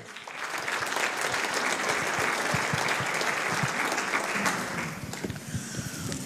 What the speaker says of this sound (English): Please give a big round of applause to Roberto Cochetto.